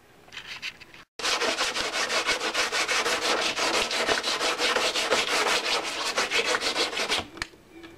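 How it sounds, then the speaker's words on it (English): Rapid back-and-forth scraping of a sanding block along the edges of an FZR side panel, loud and close, running steadily for several seconds after a brief pause. "block sand out the edges"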